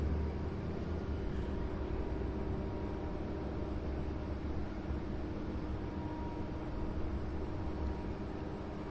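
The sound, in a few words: airplane taking off at Louisville SDF airport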